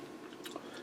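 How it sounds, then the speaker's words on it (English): Chewing a mouthful of crunchy bacon and tater tots, a brief quiet crunch and bite heard close up with no talk. "Nice crunch from the bacon and the tater tots."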